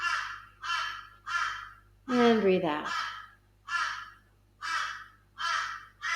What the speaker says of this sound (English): imagine you're receiving the sound of the crows in my background here, and letting them go.